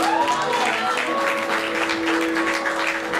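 Audience applause on a French-language entertainment show, a steady, dense patter of many hands clapping throughout, with a faint sustained tone running beneath it.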